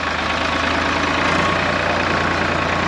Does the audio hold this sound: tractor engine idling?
yes